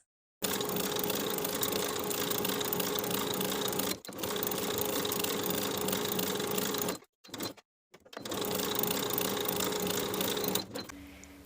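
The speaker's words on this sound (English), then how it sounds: "Sew each of the armholes with a 1/2 inch seam allowance." A sewing machine stitches the armhole seams of a lined bodice in long, steady runs. Brief stops break up the rapid mechanical chatter.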